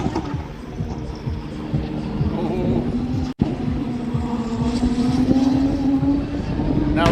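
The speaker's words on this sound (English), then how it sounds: "It's an F1 car with probably an F2 engine in it to slow it down." A modified F1 race car, likely fitted with an F2 engine, drives at Silverstone during the British Grand Prix, its engine droning steadily and rising in pitch, loud and sustained with a brief cut midway.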